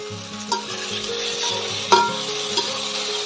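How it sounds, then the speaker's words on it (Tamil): Chopped tomatoes frying in a pot for one-pot chicken biryani: a continuous loud sizzle with a low tonal hum underneath and three distinct knocks of the stirring spoon. No voices. "3 தக்காளி பழம் வாஷ் பண்ணி நல்லா கட் பண்ணி வச்சுருக்கிறேன், அதை சேர்த்துக்கோங்க."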